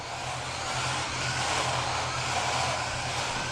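An ACCAMMZAR S814 1:24 scale RC drift car, running on rubber tires, drives around with a steady, hissing electric whir at constant volume and no voices.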